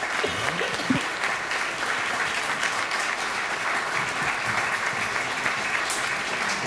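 An audience applauds after a history lecture on Mary Lincoln, a full, even clapping that holds steady for several seconds, with faint murmurs beneath it.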